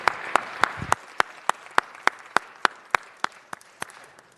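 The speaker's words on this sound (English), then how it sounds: "let's give Margaret and LaShonda and Maria a round of applause" Scattered applause at a city council meeting: sharp, evenly spaced hand claps, fairly close and clear, with no talking over them.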